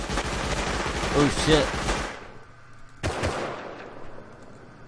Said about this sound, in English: That was not us shooting, that was a Thompson.